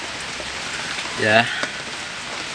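Heavy rain falls steadily on surfaces at a construction site, a constant hissing patter throughout, with a man's brief spoken word and a dog nearby.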